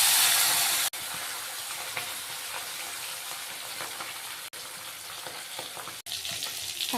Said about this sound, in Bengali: যেহেতু আমার কড়াটা তেতে গেছে তাই মাছ তুলে দিচ্ছি